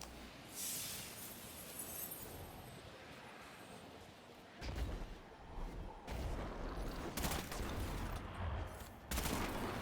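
A pulse rifle fires in Destiny 2, with clustered bursts of sharp shots that come in volleys over a busy, fairly quiet background of game noise.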